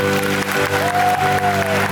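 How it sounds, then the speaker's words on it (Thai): An audience claps loudly and continuously at the closing of a Thai stage show, dense applause filling the room with a little crowd noise. "ขอเสียงปรบมือให้ตัวเองด้วยครั"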